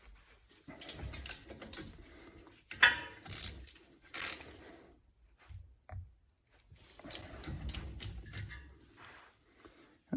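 Ratchet wrench tightening brake caliper bolts on a 2016-2022 Lexus RX350 front brake, several bursts of rapid clicking pawl strokes separated by pauses, close and fairly quiet.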